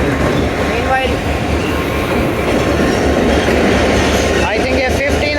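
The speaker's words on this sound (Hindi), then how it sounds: "आई थिंक ये 15 ऑफ कराची एक्सप्रेस लाहौर आई है, जो सुबह के टाइम आती है।" The Karachi Express pulls into Lahore railway station, a loud, close rolling rumble of heavy railcars with clattering wheels and a brief squeal near the end.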